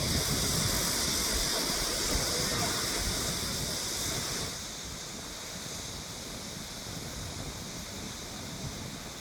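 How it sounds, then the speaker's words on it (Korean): A small waterfall on the far side of the Naerincheon stream makes a steady, full rushing roar with no break, loud and close throughout and slightly softer in the second half. "내린천 건너편에 작은 폭포가 있어서 시원하게 몸을 적시고 계시네요."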